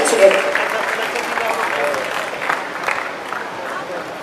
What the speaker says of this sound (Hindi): तालियों की आवाज के साथ हम लोग स्वागत करेंगे।